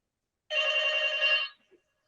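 A single phone ringtone burst of about one second, a bright electronic tone sounding alone against silence with a tiny blip after it.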